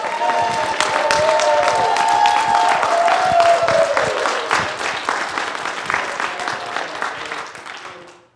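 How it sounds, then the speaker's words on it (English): A crowd at an annual meeting breaks into loud, dense applause that fades gradually toward the end, with a few voices and a cheer mixed into the clapping. "One more round of applause."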